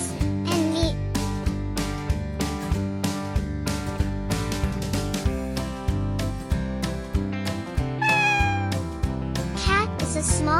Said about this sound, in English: Cat is a small animal with soft fur and a long tail.